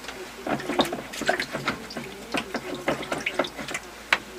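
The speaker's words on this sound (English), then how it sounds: "I'm rinsing off the brush" A paint brush is rinsed in a water cup, producing repeated small clinking taps and sloshing swishes in an uneven rhythm, close and moderately quiet.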